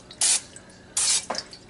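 A spray bottle spritzes low-calorie chips in two short hissing bursts, then a softer third puff, close and clear in a quiet kitchen.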